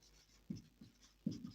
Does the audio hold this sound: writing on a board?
yes